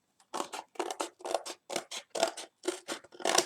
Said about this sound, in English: So I'm going to quickly cut that out there like that.